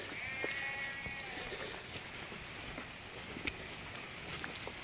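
One brief sheep bleat rises early, faint and somewhat distant, followed by soft outdoor patter and rustling, on a walk near Pistyll Rhaeadr waterfall in Wales.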